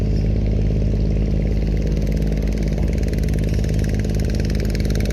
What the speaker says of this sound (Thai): แต่เรือหางยาวค่ะ